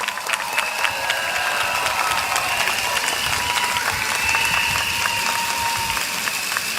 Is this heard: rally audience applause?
yes